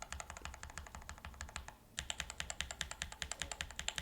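Rapid typing on a custom mechanical keyboard fitted with Gateron Ink linear switches, a dense run of crisp close clacks that pauses briefly, then resumes with steady rhythmic keystrokes, quiet and without voices.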